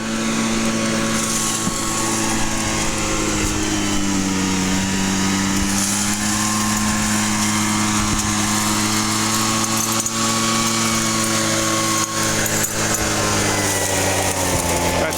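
Motorized gold drywasher running loud and steady outdoors in the desert, a continuous engine drone with rattling and shaking as dirt is loaded into it, with occasional voices over it.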